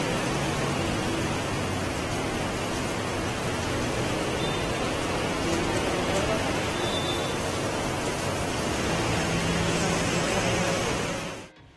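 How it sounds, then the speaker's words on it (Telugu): Heavy rain pours down in Hyderabad, a dense, steady hiss that stays loud and unbroken from start to finish, with no voices heard before it drops away at the very end. "నిన్న మొన్నటి దాకా ఎండలతోని ఎండిపోయిన హైదరాబాద్ ఇలా వానలతోని ఇట్లా దడిసిందుల్లో"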